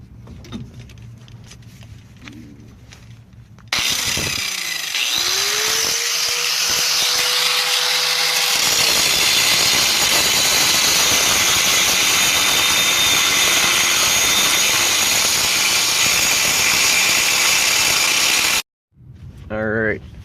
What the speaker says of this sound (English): I'm just coming at it into the angle grinder. I'm at it in there sideways like that, just chewing away at it.